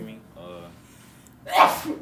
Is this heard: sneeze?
yes